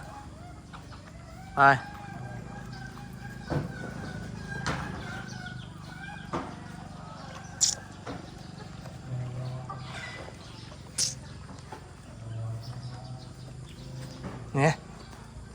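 Chickens on a farm cluck and call with several sharp squawks and a crow, near and fairly loud, while people talk quietly through much of the scene.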